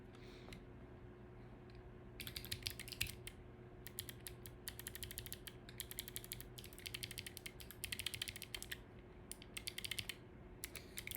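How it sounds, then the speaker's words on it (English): Rapid computer keyboard typing during a coding session, quick bursts of close, crisp key clicks that start and stop in clusters over a steady low hum, with no voice. "Just bump my keyboard."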